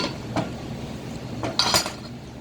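Fattoush, a traditional Lebanese salad, tossed in a bowl with utensils, a few bright clinks and knocks of cutlery against the bowl over soft rustling, close and fairly loud.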